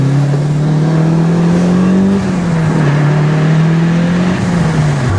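A Mitsubishi Lancer Evolution VI engine drones loudly at close range, pitch climbing steadily as it accelerates, dipping briefly at a gear change, then pulling again.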